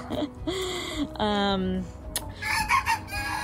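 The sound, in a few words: rooster crowing on a farm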